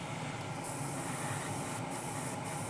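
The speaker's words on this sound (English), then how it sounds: "test the paint flow and then" An aerosol spray can steadily mists paint onto the interior pieces of a 1:24 Tamiya Ferrari LaFerrari scale model, making a continuous close hiss with an extractor fan running under it.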